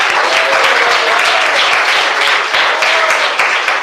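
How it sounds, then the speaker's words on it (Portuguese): A church congregation bursts into sustained applause during a lively Pentecostal worship service, dense steady clapping from many hands filling the room at high volume for several seconds. "Palmas."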